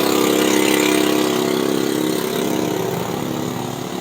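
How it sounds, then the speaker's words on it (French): A loud motorcycle engine runs steadily nearby in the Philippines, a constant rough drone with a slight easing in intensity toward the end. "une moto qui fait énormément de bruit"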